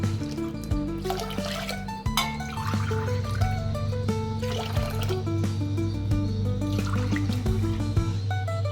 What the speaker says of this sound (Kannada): ಅದೇ ಅಳತೆ ಲೋಟದಲ್ಲಿ 5 ಲೋಟ ನೀರು ಹಾಕ್ತೇನೆ